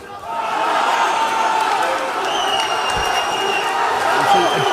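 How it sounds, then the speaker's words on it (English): Crowd at a European heavyweight WBC title boxing bout makes a steady, loud roar of jeers and boos from the arena, with a commentator's voice running over it throughout. "Seeing some boos from the crowd."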